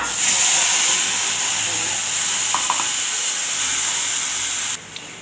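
Fenugreek seeds, curry leaves, ginger and garlic sizzle in hot oil in a pan for kadhi, a steady loud hiss that runs throughout, with a brief clink near the middle and a drop in level at the very end.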